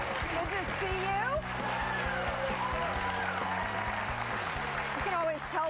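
A television studio audience claps steadily as someone speaks over the applause, with a few scattered whoops and cheers mixed into the crowd noise.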